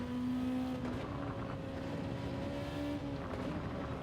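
A racing game car engine drones steadily throughout a time trial, with sustained tonal whine shifting slightly in pitch and a brief change around a second in, at moderate level with no talk.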